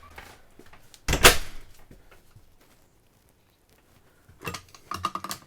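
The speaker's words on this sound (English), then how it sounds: "let's go inside and see how this door latches" A Bauer Bluetooth keyless lock on an RV door latches with one loud clack near the start, followed by quieter rattles and a brief burst of mechanical clicking toward the end.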